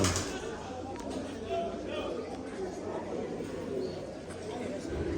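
Pigeons cooing softly in a low, murmuring chorus, fairly faint and continuous, with people chattering in the background.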